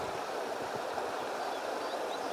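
A creek pours into Montana's Big Hole River, making a steady, close rushing and gurgling water sound with no voices.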